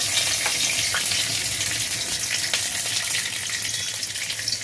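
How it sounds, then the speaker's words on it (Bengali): Bay leaves, dried chillies and whole garam masala hit hot oil in a kadai for chicken kasha, making a loud, continuous hissing sizzle with scattered sharp crackles and pops. "আমি এবার তেলের মধ্যে তেজপাতা, শুকনো লঙ্কা আর গরম মশলা ফোড়ন দিয়ে দিচ্ছি"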